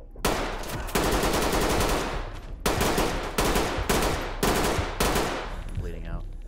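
Close, loud automatic gunfire in Ready or Not, fired through a wall in several long rapid bursts separated by brief pauses, then dying away at the end.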